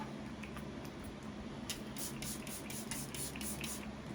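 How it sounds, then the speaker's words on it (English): A quick series of soft spritzes from a Ciate London Water Burst setting spray bottle, each short hiss of mist following the last in a steady rhythm. "We gotta apply some setting spray."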